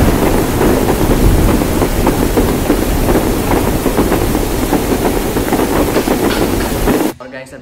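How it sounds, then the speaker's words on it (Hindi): Loud, heavy rain pours in a dense continuous roar that cuts off abruptly near the end. "कितनी बारिश गिर रही है, सुबह की बारिश चालू हुई है"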